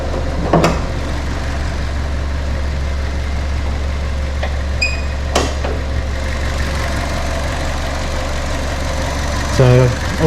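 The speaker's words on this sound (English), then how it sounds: "I say it runs and idles really nicely." A 2009 Ford Ka petrol engine idles smoothly and steadily as a low, even hum close by, with a few brief clicks and knocks over it and no talking.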